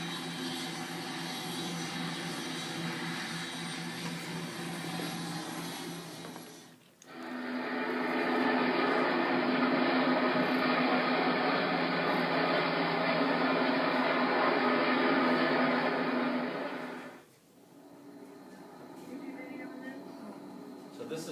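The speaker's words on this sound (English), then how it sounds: "This is coming in for a running landing." Archival aircraft making an emergency running landing: a loud, sustained propeller-engine drone swells in after a quieter stretch, holds steady for about ten seconds, then cuts off abruptly, with someone talking over the quieter parts.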